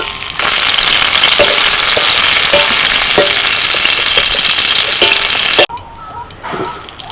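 Potatoes frying in a pan: a loud, hissing sizzle with light stirring clicks that cuts off abruptly after several seconds, leaving a softer, quieter sizzle.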